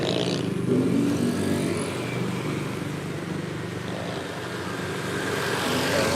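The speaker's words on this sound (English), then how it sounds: "Here we go, a motorcycle race." Motorcycles race past on a road in the Philippines, a moderately distant engine drone rising and falling steadily, with no talk.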